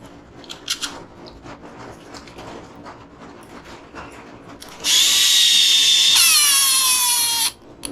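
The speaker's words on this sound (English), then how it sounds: "So then we go ahead and put our screws in." A power drill drives screws into an HB Racing E819RS radio-controlled car during front-end assembly, a loud whirring burst of about three seconds near the end after quieter handling clicks, close up.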